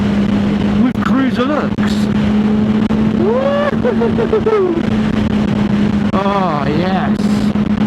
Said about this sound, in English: this sounds like a sports bike. Sports bike sound